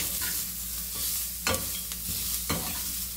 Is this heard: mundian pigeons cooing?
no